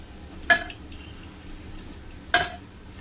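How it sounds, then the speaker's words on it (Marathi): Garlic frying in oil in a kadhai gives a faint background sizzle, punctuated by two sharp metallic clinks of a utensil against the pan about two seconds apart. "आता हे लसण चांगला फ्राय करून घ्यायचा आहे."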